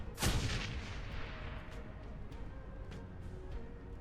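A grenade detonates in the video game Shadowrun: Hong Kong, a sharp boom at the start that rolls into a long, low rumbling decay, fairly quiet overall, with a few faint ticks afterward.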